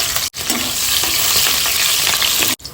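Green chillies fry in hot oil with a loud, constant crackling sizzle, nearby and without voices, broken by two short cuts.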